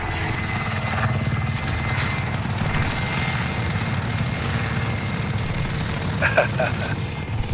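A helicopter in the video game Call of Duty: Modern Warfare drones loudly and steadily throughout, with gunfire crackling near the end.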